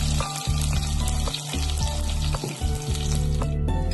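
Sliced onions and mustard seeds fry in hot groundnut oil in a clay pot for a chicken gravy, giving a loud, steady sizzle with crackling pops and occasional stirring scrapes throughout.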